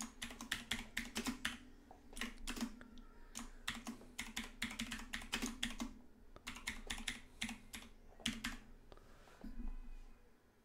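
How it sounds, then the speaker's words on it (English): Rapid bursts of keystrokes on a computer keyboard come in uneven clusters separated by short pauses, crisp and close, with no voices over them. "Get ready for some typing."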